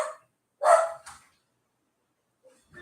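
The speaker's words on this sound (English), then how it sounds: "Whatever it is, he's barking." A dog gives a couple of short barks indoors, a sharp one followed by a quick second, then quiet and a faint yip near the end.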